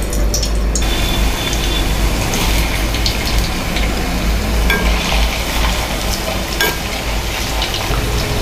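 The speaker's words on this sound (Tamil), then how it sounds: "ஒரு கடாயில் எண்ணெய் ஊற்றிட்டு நம்ம உருளைக்கிழங்கு, காலிஃப்ளவர் ஃப்ரை பண்ணிக்கலாம்." Potatoes, with cauliflower nearby, fry loudly in oil in a kadai, a dense continuous sizzle and crackle with stirring scrapes and a low background hum throughout.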